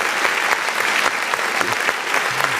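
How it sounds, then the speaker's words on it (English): One person claps hands steadily and densely through the whole stretch, loud and close, with no voices over it. "You have to clap for yourself"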